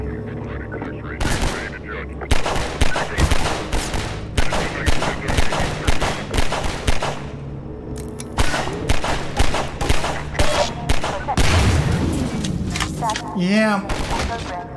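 Rapid bursts of automatic gunfire in Half-Life 2, repeated volleys of loud, close shots with short pauses between them, a game voice briefly speaking partway through.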